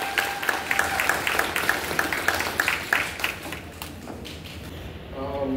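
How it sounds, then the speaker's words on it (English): An audience claps in a steady patter of applause for new National Beta Club inductees, with a voice speaking over it before the clapping fades. "Let's give our new inductees a hand."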